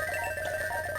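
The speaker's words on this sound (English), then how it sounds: "It uses the Super Mario World P-switch theme." Super Mario World P-switch theme music plays from the video game, a brief bright electronic chiptune passage with steady high tones and a running melody.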